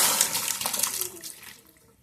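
Boiled vegetables with their water tipped into an onion and tomato fry for a cauliflower saagu, a brief splashing pour that fades out over two seconds.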